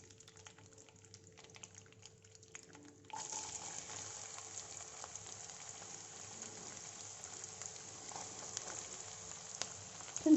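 Onions dropped into a frying pan of hot oil with fennel seeds and curry leaves for egg curry: quiet crackling gives way to a sudden, steady sizzle that continues to the end.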